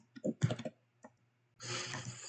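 Typing on a computer keyboard, with a short cluster of clicks followed after a pause by a brief tap and then a denser, continuous run of close keystrokes.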